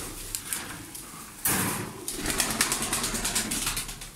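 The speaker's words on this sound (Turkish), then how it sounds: "Kanat seslerini duyun arkadaşlar" Mosul-beak milk-white pigeons beat their wings close by in rapid rhythmic bursts, a dry fluttering clatter that builds and repeats over several seconds with some low background noise and no talk.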